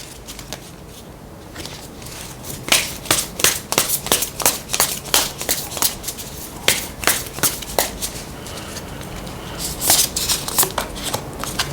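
Tarot cards are shuffled by hand, giving a steady run of crisp, close slapping and riffling clicks that grows denser toward the end over a faint background hiss.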